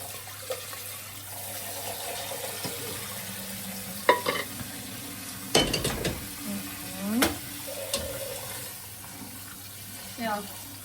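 Rice being stirred in a pan after a rinse under cold water: irregular scraping strokes with a faint sizzle and some water noise, close by and moderately quiet, with no clear talk.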